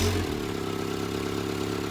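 Fiat 238 van engine with a flat battery running after a hard start, with a slightly blowing exhaust, a steady low idle just after the catch, close and continuous with no talk.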